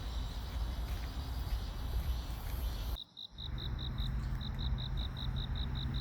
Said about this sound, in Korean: 바람 소리와 매미 소리가